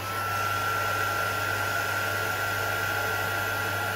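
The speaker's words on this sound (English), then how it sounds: "Heat tool." A heat tool blows over coffee-stained paper for a vintage mini book, a steady, loud whooshing hum with a constant whine that runs unbroken throughout.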